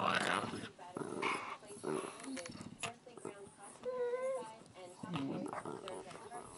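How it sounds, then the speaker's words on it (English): A young Doberman puppy barks and growls in playful bursts while a Boston Terrier–Beagle mix plays nearby on a bed, close and lively, with people talking and laughing over the yaps. "What are you barking at, little dog?"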